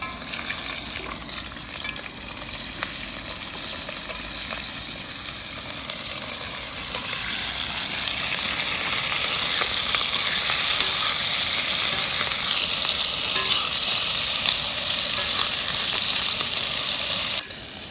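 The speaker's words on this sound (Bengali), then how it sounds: "তেল আমাদের গরম হয়ে গেছে, পেঁয়াজ আর ক্যাপসিকামটা ছেড়ে দেবো" Onion and capsicum dropped into hot oil in a kadai, frying for chili chicken at an outdoor picnic: a continuous close sizzle and hiss that swells louder partway through and holds steady, no voices.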